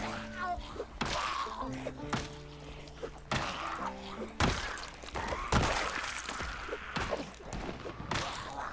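Zombies thump heavily on the walls and doors inside a house in the video game Project Zomboid, a series of dull, irregular blows roughly every second, heard over sustained game music tones.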